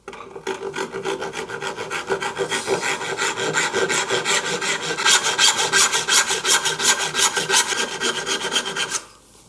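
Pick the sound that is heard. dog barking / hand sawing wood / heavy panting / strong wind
hand sawing wood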